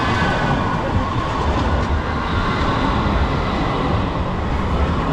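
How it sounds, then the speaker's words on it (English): A tram car rolls past on an Istanbul street, a steady, loud rumble of wheels on rails that holds evenly for several seconds without any voices over it. "That's the tram car passing by."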